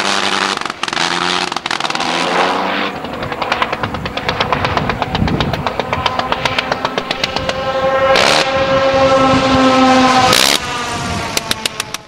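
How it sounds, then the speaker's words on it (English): A Sopwith Camel biplane's rotary engine drones and pops loudly with a rapid, uneven rhythmic firing, the pitch shifting as it passes, with no voices. "the rotary engine-powered Sopwith Camel, only recently re-emerged from a lengthy engine rebuild process."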